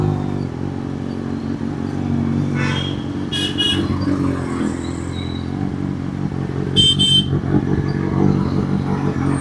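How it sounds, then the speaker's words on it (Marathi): Two separate short vehicle horn blasts sound in busy road traffic, one around the middle and one later, over a continuous rumble of car and motorcycle engines, with no talking. "कोण हॉर्न देते मला"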